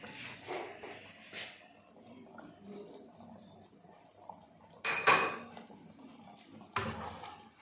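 Aloo mutton shorba is stirred in a metal pot, with soft scraping and sloshing broken by a few louder clanks of the utensil against the pot, close by and with no talk.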